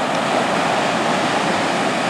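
Small ocean waves break on a Florida beach, a steady, close wash of surf rushing continuously with no pause or voices.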